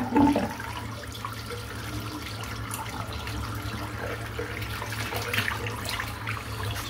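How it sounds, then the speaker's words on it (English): Water runs steadily from a tap into a sink while a shaving soap tub is rinsed out, a continuous mid-level splash and hiss with no talking. "I'm just going to rinse this tub out now and let it start drying."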